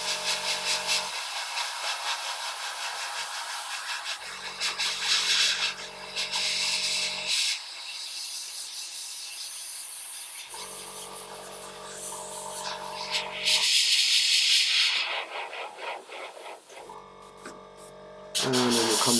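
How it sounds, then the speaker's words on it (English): An airbrush sprays paint onto a Warhammer Warcry miniature in repeated hissing bursts of a few seconds each, separated by quieter gaps, close and fairly loud. "back to doing an airbrush"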